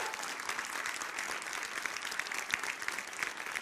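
Studio audience applauding to welcome students on a televised Hindi news debate show, a steady dense wash of many hands clapping throughout, fairly close and even, with no talking over it.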